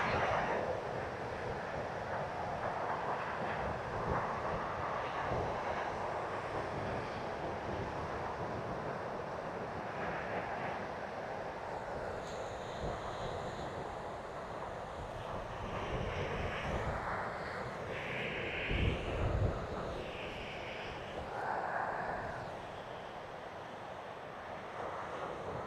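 A drone flying along a beach, its steady whining rotor buzz heard throughout with wind buffeting the microphone and surf washing in the background; tones shift as it turns.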